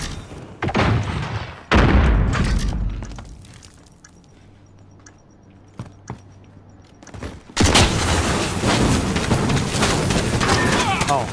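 A missile launch and explosion in a video game: loud blasts and gunfire-like bursts open the clip, then a quieter stretch with a few sharp thumps, then a long roaring explosion wash that fills the remaining seconds.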